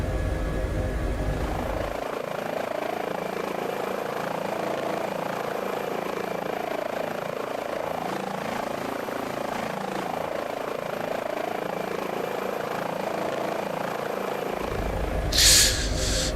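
An H145 helicopter in Microsoft Flight Simulator drones steadily throughout with a dense, continuous rotor and engine roar, close and unbroken, with no talking over it.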